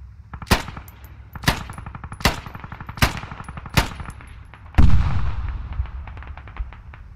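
Rapid bursts of gunfire in a video game battle against an enemy tank and vehicles, with several loud sharp shots spaced about a second apart, then a heavy booming blast that rumbles and fades.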